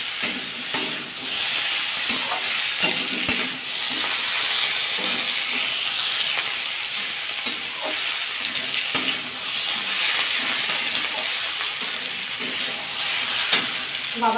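Mixed vegetables for a rui fish-head chorchori are stirred with Kashmiri chili powder and turmeric in a hot pan, sizzling and hissing continuously with soft scraping strokes throughout.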